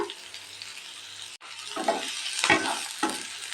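Green chili, curry leaves and onion sizzle in hot oil while being stirred for egg rice, a crackling fry with a sharp click early on, then several scraping stirs over the steady sizzle.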